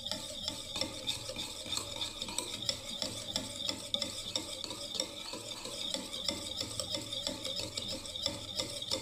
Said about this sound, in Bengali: আবার একবার ভালোভাবে ফেটিয়ে নিচ্ছি দেখুন আমুল দুধ দিয়ে